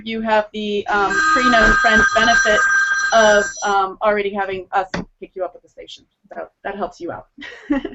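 A telephone rings with a steady electronic tone for a few seconds, partly masked by someone talking over it.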